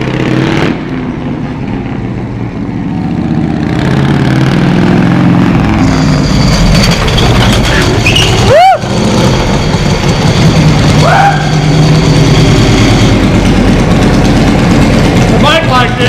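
Harley-Davidson motorcycle engine running after a pushrod adjustment, a loud steady idle rumble close by, with a brief sharp squeal-like sweep partway through.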